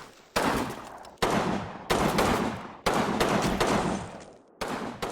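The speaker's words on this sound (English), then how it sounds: "Oh yeah, that's a lot of firepower." Heavy bursts of gunfire from Combat Mission Battle for Normandy, a World War II strategy game, come in five loud, dense volleys separated by short gaps, close and roaring, with no talking over them.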